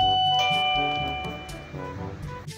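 A home doorbell chimes a short sequence of ringing tones that overlap and slowly fade, heard alone without talk.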